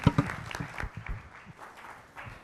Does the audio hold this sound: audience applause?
yes